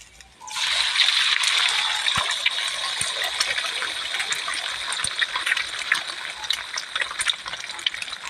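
Water gushes steadily from a tap or pour onto rice, a loud continuous hiss and splash that starts suddenly and runs on without a break.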